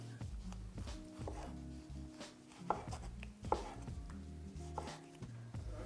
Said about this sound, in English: Just make sure they're even slices.